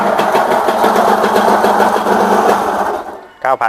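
A Yamaha TZR motorcycle engine runs with a whirring drive-gear noise, a steady, close mechanical buzz for about three seconds before it cuts off and a brief voice follows.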